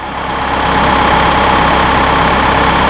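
A Massey Ferguson tractor fitted with a DL125 or DL135 front loader and a heavy 4-in-1 bucket, loader suspension switched off, its engine running with a loud, steady, close-up diesel drone and no talk.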